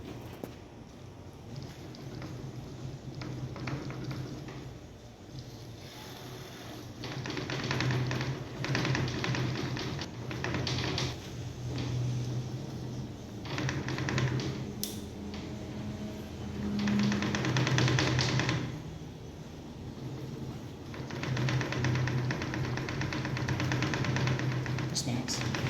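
A worn, loose suspension part on a Ford Fusion being worked by hand in a garage, giving faint irregular clunks and taps under ongoing talk and background noise.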